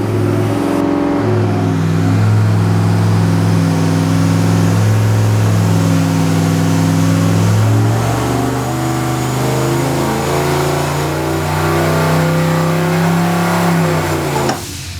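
A turbocharged car engine running about 8 pounds of boost revs hard on a dyno, a loud sustained roar that climbs steadily in pitch, holding strong with a brief dip partway through.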